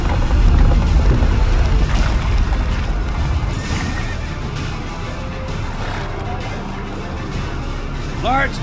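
Roach, the horse in The Witcher 3, galloping amid loud battle noise with a brief whinny near the end, while voices shout over the din.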